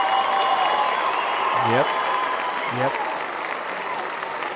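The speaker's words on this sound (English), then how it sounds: "We could just have a cheering crowd of fans for 40 seconds." A cheering crowd of fans played as a soundbite, steady applause and crowd noise throughout, with someone briefly speaking over it.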